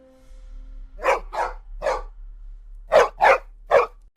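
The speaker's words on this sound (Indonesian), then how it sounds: "saat anjing Sam menggonggong terus-terusan ke arah luar rumah" A dog barks toward the outside of a house in short bursts, three spaced barks followed by a quicker run of three, close by against a quiet background.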